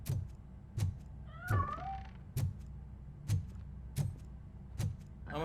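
A cat meows a few times in RoboCop Rogue City, the calls rising and falling over a steady run of dull thumping footsteps and quiet game ambience.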